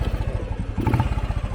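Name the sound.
1970 Royal Enfield Bullet motorcycle kick-started, engine running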